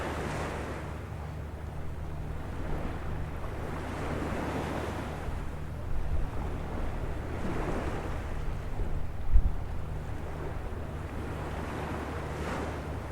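Ocean waves wash steadily onto a sandy beach in a continuous low roar, with gentle swells and some wind buffeting the microphone.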